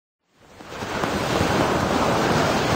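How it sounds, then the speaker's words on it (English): Ocean surf and waves in a cartoon swell up from silence into a loud, continuous roaring wash of noise that holds steady, with no talking. "I love the sea."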